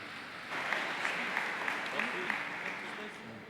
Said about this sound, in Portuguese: Aplauda a vida deles aí